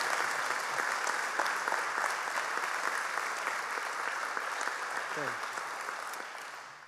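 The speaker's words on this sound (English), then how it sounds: "let's give another hand for all the inductees" Steady sustained applause from an audience at a high school ceremony honoring inductees, dense clapping filling the room throughout and fading slightly toward the end.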